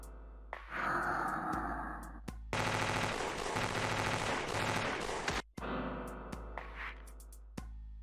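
Gunfire in a vampire-themed video game, with dense bursts of shots across the middle and later sections, loud and close, over a low steady hum and some breathy sighs.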